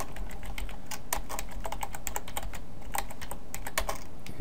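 Steady computer keyboard typing while entering code, a rapid run of crisp, close key clicks with occasional louder strokes and no speech.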